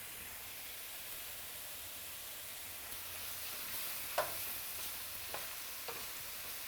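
Onion goes into hot oil with mushrooms for beef stroganoff and sizzles in a steady, even hiss. A few faint utensil clicks come near the end, close and fairly quiet.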